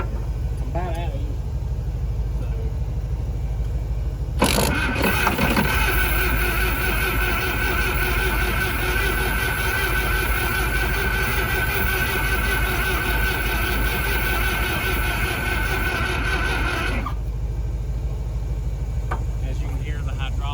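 An old Case 770 tractor engine cranks and strains to start, a harsh sustained grinding for several seconds over a constant low mechanical rumble.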